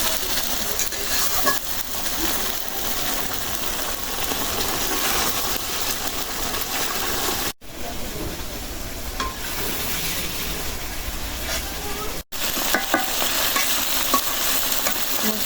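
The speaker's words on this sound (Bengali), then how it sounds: "এখানে একটু মশলার সাথে হালকা করে মেজা কষা নেবে" Food and spices being sautéed in a pan in a village Bangla kitchen, with a steady, loud sizzle and stirring that carries on without a break.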